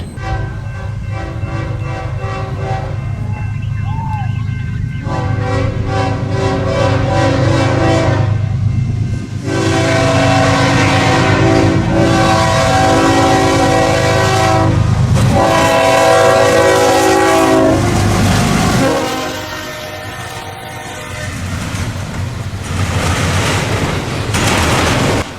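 A Norfolk Southern intermodal freight train passes at Fostoria, sounding a loud, sustained multi-chime horn in long blasts over the heavy rumble and clatter of wagons, with a break in the horn partway through.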